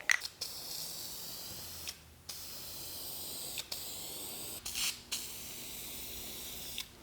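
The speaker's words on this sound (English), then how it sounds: "Then I'm just going to hit it with a little bit of white spray paint" Short bursts of white spray paint hissing from an aerosol can onto a wall in a shop, several separate sprays with pauses between them, close and fairly quiet.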